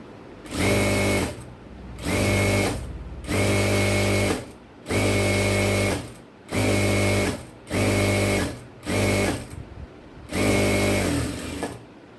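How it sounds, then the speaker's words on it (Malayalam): A sewing machine stitches fabric straps for a frock-style nighty in about eight loud, close bursts of rapid whirring, each separated by a brief pause, with no talking. "രണ്ട് വള്ളിയും ഇതുപോലെ അടിച്ചെടുത്തിട്ടുണ്ട്"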